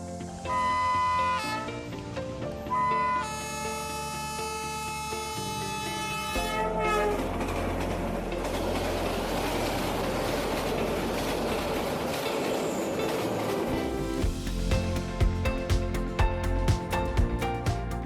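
A train on the Devil's Nose railway near Alausi in the Ecuadorian Andes, a steep zigzag line where trains reverse direction, its horn and rumbling wheels blended under loud orchestral music with no voices.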